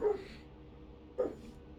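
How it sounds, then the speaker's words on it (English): A pet dog indoors gives two short, fairly close yips or barks about a second apart, over a steady low background hum. "He's barking a little too much"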